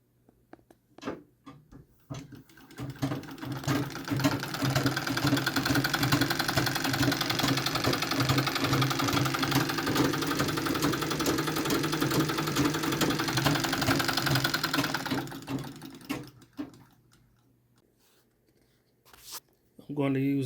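A Singer sewing machine winds a bobbin with a steady, close mechanical whir lasting about twelve seconds, starting and stopping amid quieter handling noises.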